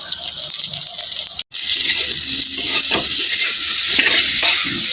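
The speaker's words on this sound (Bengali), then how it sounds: "এখন আমি বেগুনটাকে একটু ভেজে নেব।" Eggplant pieces seasoned with salt and turmeric fry in a pan, a loud, close, continuous sizzle with stirring scrapes, broken by one brief silent gap before the hiss resumes.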